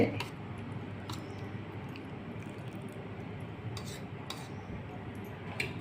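Poha thalipeeth dough is mixed and kneaded with fresh curd, giving soft squishing and intermittent clinks of a utensil against a bowl, close and fairly quiet.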